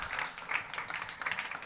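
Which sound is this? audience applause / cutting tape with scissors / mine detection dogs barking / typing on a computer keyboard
audience applause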